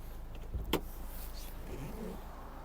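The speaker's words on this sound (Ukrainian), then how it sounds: "Двигун працює чітко." A Kia Sorento with 199,000 km on it idles steadily, a low continuous engine hum with one brief knock or click near the start.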